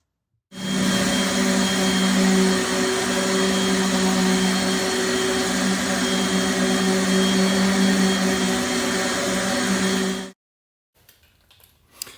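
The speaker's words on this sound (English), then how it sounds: "You can see here that I switched to the Craftsman sander. It seems to work better with the heavier grit." A Craftsman power sander fitted with 80-grit paper and hooked to a shop vacuum runs steadily at close range, a loud continuous whining roar with a strong hum that cuts off abruptly near the end.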